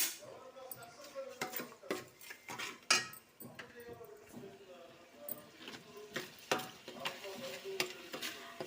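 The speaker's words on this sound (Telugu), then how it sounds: "పసుపు వేసుకొని ఇదంతా ఒకసారి కలిపెడదామండి తిప్పుదాము" A spoon stirs fish curry with a spoonful of turmeric in a pot, scraping and clinking against the metal in irregular bursts while soft frying sizzle runs underneath and a voice talks over it.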